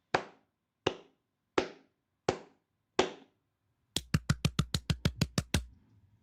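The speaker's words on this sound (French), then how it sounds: "J'applaudis." One person claps hands alone, five slow separate claps followed by a quick burst of about ten rapid claps, close and crisp in an otherwise quiet room.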